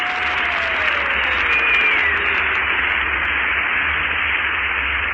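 Applause from a studio audience at an old radio amateur show rises as a broad hissing wash over static and noisy, band-limited broadcast sound, with faint whistling tones drifting through.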